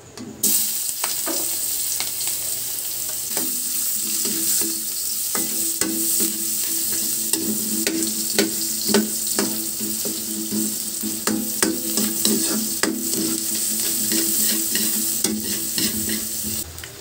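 Onion, garlic and ginger frying together in a pan for pesang isda, a steady close sizzle with occasional stirring scrapes throughout, no talking.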